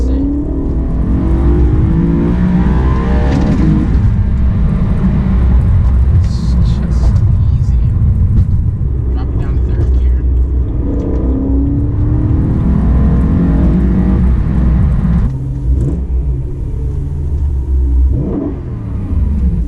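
A 2012 BMW E92 M3 pulls hard in second gear at about 30 mph, its engine note climbing in loud, sweeping rises and falls that stay close and continuous throughout.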